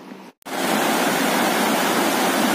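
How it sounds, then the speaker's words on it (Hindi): A waterfall at Kailash cave pours down from above in a loud, steady roar of rushing water that fills the scene after a brief dropout near the start. "ये देख सकते हैं कैलाश गुफा का झरना बहुत ही अच्छा दिख रहा है, ऊपर से पानी आता हुआ"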